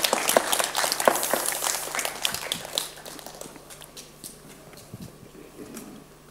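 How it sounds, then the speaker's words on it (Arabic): A studio audience on a children's television show claps for a boy named Bilal, with dense loud applause that gradually thins and fades into scattered claps over several seconds. "صفقوا على بلال."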